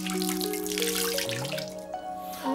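Water pouring and splashing continuously, like a tap or sink filling, with a steady trickle and small drips running throughout at close range.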